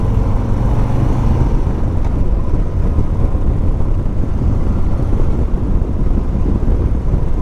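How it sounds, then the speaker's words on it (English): A 2021 Harley-Davidson Street Bob 114 bobber motorcycle engine while riding, a steady, loud low rumble that stays continuous throughout with no talking. "Very smooth motor"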